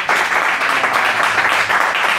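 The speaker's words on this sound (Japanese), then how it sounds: "じゃあ一さんが勝ったと思う人拍手してください" Audience at a business debate applauding to vote for Hajime as winner, a louder and fuller round of clapping than before, sustained steadily for about two seconds with no talk.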